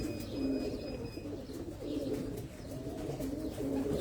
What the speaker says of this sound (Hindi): सियालकोट के कबूतर